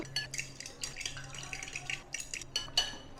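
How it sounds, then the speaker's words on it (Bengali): Prawns being mixed by hand or spoon in a bowl with a cornflour and water marinade for crispy fried shrimp give off soft, irregular clinks and scrapes of utensils against the dish, plus wet rustles, close and fairly quiet with no talking. "আর একটু জল দেবো, ভালোভাবে মিশিয়ে নেবো।"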